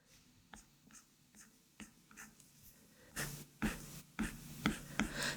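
A pen or marker drawing a vector by hand on a surface: short scratchy strokes, quiet at first and then louder and quicker, with brief pauses between lines and no talking.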